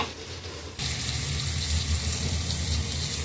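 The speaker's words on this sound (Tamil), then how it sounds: "ஃப்ரெண்ட்ஸ் தண்ணி ஊத்திக்கலாம் ஃப்ரெண்ட்ஸ்." Water is poured into a pan of chicken liver cooking in masala: a quiet sizzle, then a sudden loud rushing, bubbling sizzle as the water hits and keeps hissing steadily.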